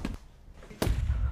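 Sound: gunshot

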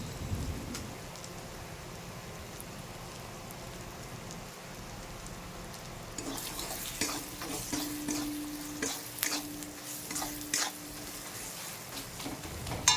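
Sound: spice paste frying and being stirred in pan

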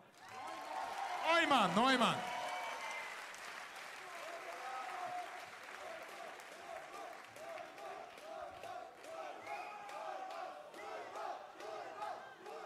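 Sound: crowd applause for two fighters at a fight gala

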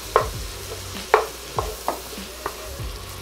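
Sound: bacon and sausage browning and sizzling in a pan

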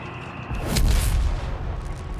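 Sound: anti-tank gunshots hitting Brummbär tank, Company of Heroes 3 video game

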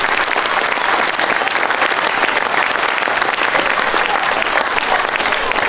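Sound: applause for the children at a school opening

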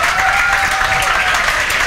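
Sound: loud applause for students

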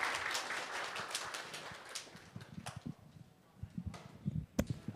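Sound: audience applause for the speaker

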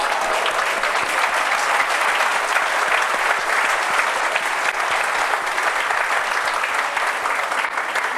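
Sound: audience applause and acclamation at a church service

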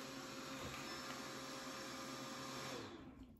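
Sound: Bidet Mega 400 warm air butt dryer blowing

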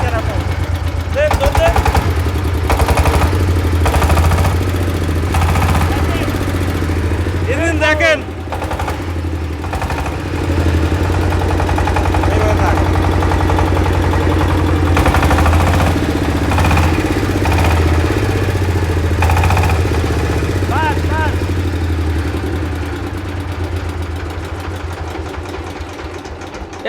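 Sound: old Sifang 20 hp diesel engine running

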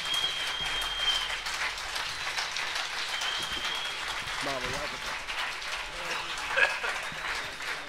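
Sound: audience applause at a jazz concert

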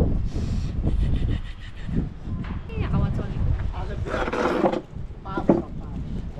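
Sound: cold wind blowing into the microphone

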